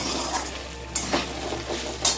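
Potatoes and vegetable stalks fry in a pan with a steady soft sizzle, while a utensil stirs and scrapes against the metal in a few brief clinks.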